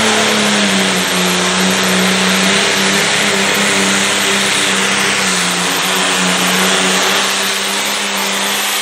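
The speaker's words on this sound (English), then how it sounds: "Bob Osher building the RPMs, building the boost" Light Limited Pro Stock drag racing car at Idaville, Indiana, holding its engine at high revs to build RPMs and turbo boost: a loud, sustained, steady roar with a low droning rumble, continuous and alone without talk.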